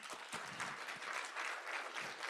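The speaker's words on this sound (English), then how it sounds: "please join me in giving them another round of applause" Seminar audience applauding speakers at a Tokyo-London green finance event, a steady dense wash of clapping that holds evenly for the whole stretch without voices.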